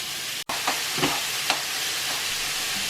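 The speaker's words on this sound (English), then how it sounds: "once the pan's heated up enough and you hear the sizzling sound" Meat sizzles loudly and steadily in a hot oiled pan, with a brief dropout near the start and a few stirring scrapes.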